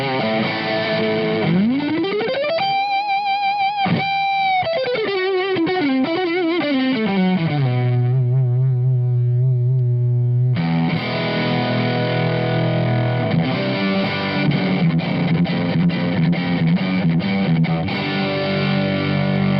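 An electric guitar through a Marshall Code 50 amp's built-in overdrive, a loud distorted riff with bends and sliding notes, a brief thinner sustained passage, then dense crunchy chords played alone.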